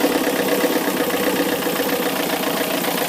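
A Yanmar 4JHE diesel engine in a 25-foot trawler idles steadily at 1,000 RPM, a loud, close, continuous mechanical drone with even rhythmic knocking and no talk over it.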